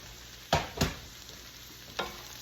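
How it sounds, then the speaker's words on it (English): Fried cabbage and butter noodles stirred together in a pan, three distinct scraping strokes of a utensil against the pan over a faint background sizzle, near and moderately quiet. "And then I'm going to stir all this together."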